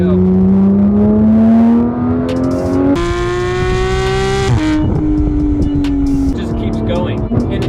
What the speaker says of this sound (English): it gets most of the attention from the exhaust itself